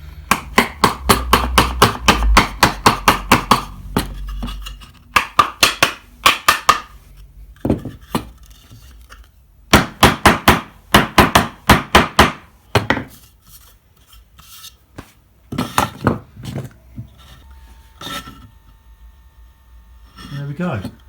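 A hand-cut wooden dovetail joint is tapped home in clusters of sharp, close knocks separated by short pauses, loud and dry against a quiet workshop.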